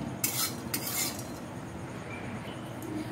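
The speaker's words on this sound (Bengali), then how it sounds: "প্রথমে এই যে বড় এলাচ আর এই দারচিনিটা দিয়ে দেবো, ঘন ঘন এটা নাড়তে হবে না হলে মশলাটা পুড়ে যাবে" Cardamom and cinnamon are stirred in a hot kadai, a spoon scraping and clinking against the metal in a few quick strokes followed by soft, faint stirring with no talk.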